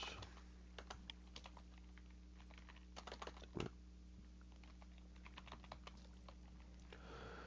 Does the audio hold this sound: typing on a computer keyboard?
yes